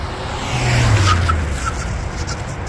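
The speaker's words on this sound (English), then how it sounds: "we'll be able to see just how far it takes to go from 40 miles an hour to 0 miles an hour on the stock brakes" A modified 2022 Mitsubishi Mirage on stock brakes brakes hard from 40 mph to a stop, a swelling low rumble of tyres and engine with faint squeal that fades over a few seconds, outdoors.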